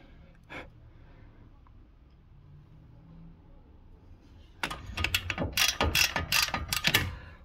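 A ratchet wrench works loose a car suspension ball joint nut. After a quiet stretch with one brief clack, a loud, close burst of rapid clicking ratchet strokes follows.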